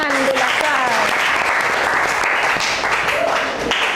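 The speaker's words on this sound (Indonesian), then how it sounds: "Kasih tepuk tangan untuk Laksa." Loud, continuous applause from a class fills the whole stretch after a student's presentation, with voices rising briefly over the clapping.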